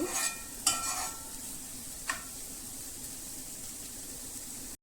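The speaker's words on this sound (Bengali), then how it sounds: "এটা নেড়ে ছেড়ে দুই মিনিটের মতন রান্না করে নেব" Cabbage cooks in a pan while a utensil stirs it, giving a few scraping knocks near the start and another a moment later. A steady, fairly quiet sizzle continues throughout.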